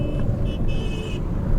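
A Peugeot 407 Coupé with the 3.0 ES9A V6 engine and six-speed manual drives along, giving a steady low engine drone and road rumble heard from inside the car, continuous and fairly loud, with a faint high tone above.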